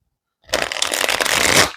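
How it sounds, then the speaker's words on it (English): Deck of Phase 10 cards being shuffled on a table, a single close riffle shuffle of rapid fluttering card snaps lasting just over a second before stopping abruptly. "Let's see if we can shuffle this a little quieter."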